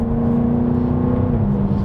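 Jaguar F-Type P450 First Edition AWD engine revving while driving, a loud, steady droning note that holds its pitch, then drops slightly near the end as if shifting, heard alone without talk.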